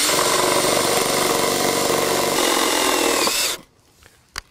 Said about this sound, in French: on va visser avec des vis autoforantes, évidemment, et une visseuse